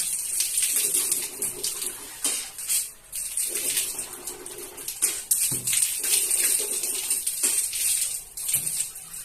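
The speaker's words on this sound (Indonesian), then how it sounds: "berkumur-kumur dan menghirup air ke dalam hidung" Water splashing and running during ablution as the mouth is rinsed and water is drawn into the nose, a steady wet rush with small gurgles and splashes throughout, fairly close.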